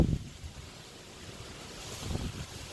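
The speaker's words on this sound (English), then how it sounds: "It is a bit windy too" Gusty wind buffets the microphone in low rumbling bursts over a soft, steady outdoor hiss.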